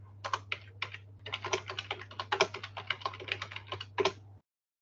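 Rapid clatter of keys being typed on a computer keyboard during a Portuguese-language online meeting about 4G mobile networks, a steady stream of sharp clicks over a constant low hum, close and moderately loud, with no talking.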